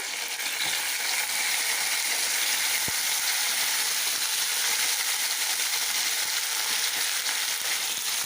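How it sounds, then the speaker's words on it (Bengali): Potato and flat bean pieces fry in a pan with a dense, continuous sizzle close by. A single sharp metallic tap cuts through partway, and no one speaks. "এখন এই আলু আর সিমটাকে একটু ভেজে নেবো"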